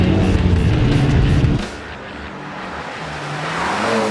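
A Mitsubishi Evo 10 race car from Tarmac Racing roars past at full throttle, then its engine note drops away as it recedes, followed by a quieter drone and rising revs in the distance.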